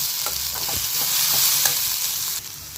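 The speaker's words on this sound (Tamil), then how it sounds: "பச்சைமிளகாய் சேர்த்து ஒரு வதக்கி வதக்கிக்கலாம்" Green chillies sauté in hot oil in a pan for semiya kichadi, a loud, close, steady sizzle broken by several quick spoon stirs and scrapes, with no talking.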